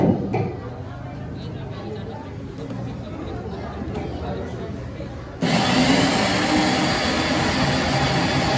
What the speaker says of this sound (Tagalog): Blender lang na simple, makabakal ka natin sa 500, may blender na simple sa Shopee. So i-blend na natin.